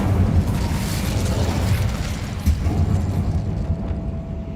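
A fiery Incendio spell cast in Hogwarts Legacy, heard as a loud, dense rumbling burst of flame that roars steadily for several seconds with a small surge midway before slowly thinning out.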